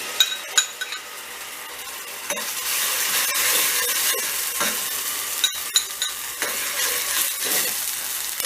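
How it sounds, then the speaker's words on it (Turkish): Grated medium tomato hits hot oil in a pan and sizzles steadily, with a continuous loud frying hiss punctuated by occasional clinks and scrapes of a utensil stirring. "Yağımız kızınca bir adet rendelediğimiz orta boy domatesi tavaya boşaltıyorum."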